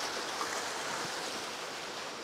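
Steady broadband water rush of a river flowing near Kawayanan Falls in Pangil, Amadeo, Cavite, a continuous close wash with no voices over it.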